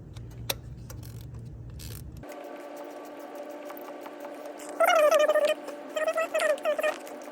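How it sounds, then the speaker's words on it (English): A ratchet is turned while fitting a spark plug on a second-generation Toyota Tundra, driver's side. Short bursts of clicking come in two separate runs near the end, close and faint, after a low hum stops. "And then you can introduce your ratchet in there."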